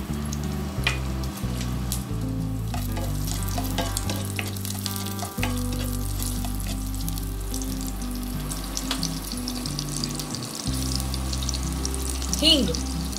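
Green chillies hit three teaspoons of hot oil for an Indian tempering, giving a dense continuous sizzle and crackle alongside a low tonal hum and brief watery sounds, with a voice faintly present.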